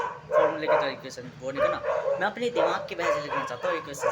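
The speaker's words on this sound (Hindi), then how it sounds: "जब जैसे कुत्ते भौंक रहे हैं" Dogs bark and yip repeatedly in the background while someone talks steadily over them throughout.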